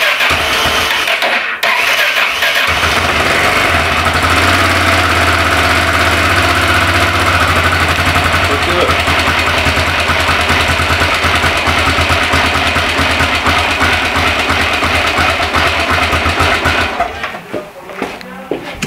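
A Yamaha motorcycle, just fitted with a new ignition coil and fresh fuel, cranks and fires up, then settles into a steady loud idle with a deep rumble that runs close for most of the stretch before cutting out near the end.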